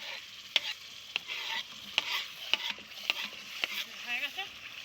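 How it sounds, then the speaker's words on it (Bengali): Chopped tomatoes go into a frying spice paste in a pan and sizzle softly, while a spoon strikes and scrapes the pan in sharp, regular knocks about once every half second. "আর এবার এর মধ্যে কুচিয়ে রাখা টমেটো দিয়ে দিচ্ছি"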